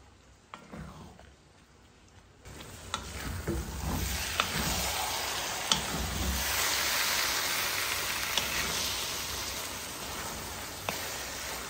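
Sticky rice cooking in a pan on low heat, stirred now and then: a steady soft sizzle with scattered scraping clicks from the spoon, quiet at first and then fuller, with no talk.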